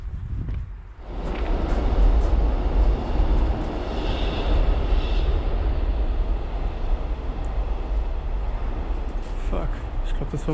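A train passing through a station in flooded Croatia without stopping: a loud, sustained rumbling roar with wind buffeting the microphone, building quickly and holding steady for several seconds, with a voice talking over it.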